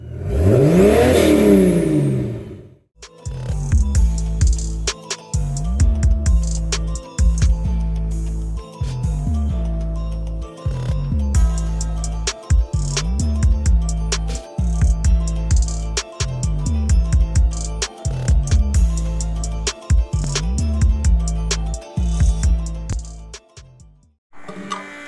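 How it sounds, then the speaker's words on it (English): A diesel fuel pump strains while running on straight waste motor oil with no thinner or heat, giving a loud, steady mechanical whir and clatter with regular rhythmic pulses throughout, close up and alone. "sorry for the extra racket. The pump doesn't really care for the straight oil, but is what it is."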